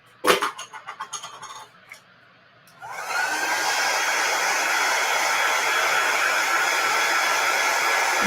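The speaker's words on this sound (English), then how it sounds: "I'm just using our heat tool. I use it on the high setting." After a few clicks and rattles, a craft heat tool switches on at its high setting, giving a loud steady blowing whoosh that holds evenly right up close until it cuts off at the end.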